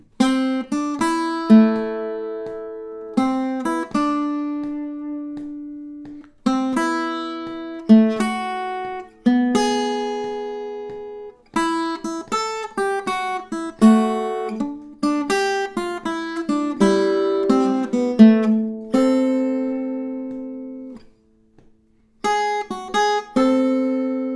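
A solo guitar plays a rhythmic groove in plucked notes and chord stabs, with short pauses between phrases, clear and close.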